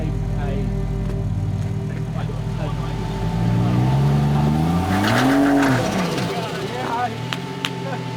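A 40 Series Land Cruiser crawls off-road in low gear, its engine a steady low drone that rises as it revs over an obstacle and then settles, with a person calling out directions.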